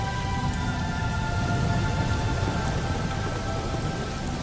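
Steady rain pours down, a dense, even hiss of drops hitting surfaces with a faint low rumble beneath, continuous and fairly loud with no voices.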